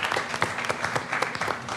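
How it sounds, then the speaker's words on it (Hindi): A cricket crowd claps steadily, a dense patter of many hands applauding throughout without pause. "साहिबजादा फरहान पाकिस्तान से तो हमें तालियां मारनी चाहिए बिल्कुल"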